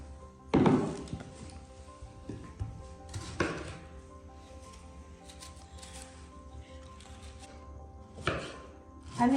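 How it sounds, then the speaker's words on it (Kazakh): Tomatoes chopped with a knife on a cutting board, several sharp irregular chops with quieter slicing strokes between them, close and clear over low background hum. "помидорымызды да осылай тураймыз."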